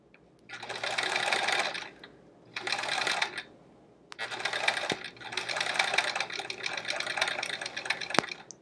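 Domestic sewing machine stitching quilt pieces along a seam line, running in several steady bursts of rapid mechanical chatter with short pauses between them, close and clear with no talk.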